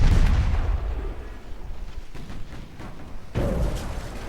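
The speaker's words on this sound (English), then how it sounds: "All their torpedoes hit, except for that one." Torpedoes strike and explode against warships in a naval battle in Ultimate Admiral Dreadnoughts, heavy low booms with a big blast at the start and another sharp detonation near the end over rumbling battle noise.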